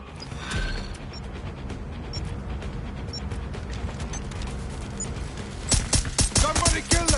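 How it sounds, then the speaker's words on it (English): Sustained gunfire in Watch Dogs Legion, a dense, continuous rattle of shots under game noise that breaks into sharper, louder bursts near the end. "Shots fired!"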